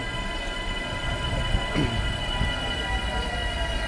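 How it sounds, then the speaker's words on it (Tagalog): Train arriving at a station in Auckland, New Zealand, with a steady rumble of wheels and carriages, faint squeals and clanks, heard from the platform without talking. "Yan na yung train, papasakayin na tayo."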